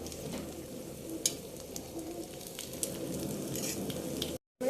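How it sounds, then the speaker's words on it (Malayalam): Chicken pieces frying in oil in a pan give a steady, moderate sizzle with a few sharper crackles and pops, continuous and without talk, breaking off briefly near the end. "പാൻ വെച്ചു, എണ്ണ ഒഴിക്കാം. നമ്മൾ എണ്ണ ഒഴിച്ച ആവശ്യത്തിന് ഓരോന്നായിട്ട് ഇട്ട് കൊടുക്കാം."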